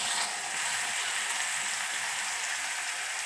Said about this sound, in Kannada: ಸಾಸಿವೆ ಜೀರಿಗೆ ಎಲ್ಲ ಅದು ಚಟಪಟ ಅಂತ ಸೌಂಡ್ ಬಂದಮೇಲೆ